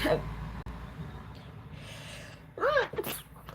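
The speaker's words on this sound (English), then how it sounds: "I'm gonna sneeze." A single sharp sneeze bursts out near the end after a quiet, breathy lead-in, close and fairly loud.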